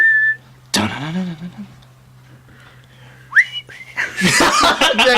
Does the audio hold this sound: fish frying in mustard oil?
no